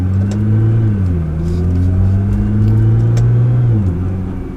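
A turbocharged car pulls hard at full throttle in third gear from around 2000 RPM, its loud engine drone rising in pitch, dipping briefly, then climbing again before easing off.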